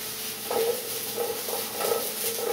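Japanese eggplant being tossed and stirred in a hot pan, giving a steady close sizzle with a few soft scraping stirs rising above it at regular intervals.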